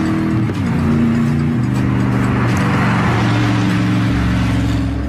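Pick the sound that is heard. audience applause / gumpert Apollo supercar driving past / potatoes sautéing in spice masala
gumpert Apollo supercar driving past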